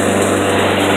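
A lawn mower engine drones loudly and steadily close by, a constant rough buzz with no break.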